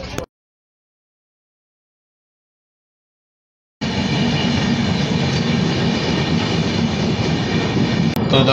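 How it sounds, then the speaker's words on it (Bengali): A Humsafar Express train pulls into Kharagpur Junction station with a loud, steady rumble that starts abruptly after a brief silence and continues without pause. "আমাদের ট্রেন এই মুহূর্তে খড়গপুর জংশন রেলওয়ে স্টেশনে প্রবেশ করছে।"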